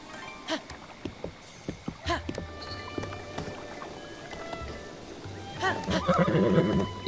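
A horse in the video game The Legend of Zelda: Breath of the Wild whinnies in short bursts amid game sound effects and light music, with a louder neighing passage near the end.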